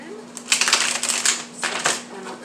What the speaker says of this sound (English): Let's get a quick shuffle on.